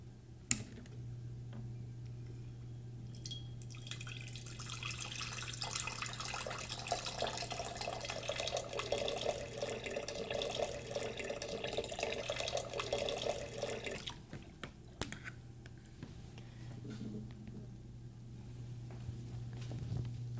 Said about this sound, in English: Let's connect these and see how much water flows out of the junction in 10 seconds.